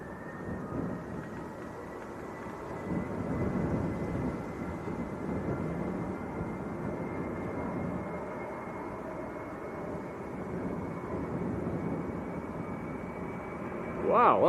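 A fixed-wing airliner takes off at Leeds Bradford Airport, its engine roar a steady broad rumble that holds at a fairly even level throughout, with a brief louder burst at the very end.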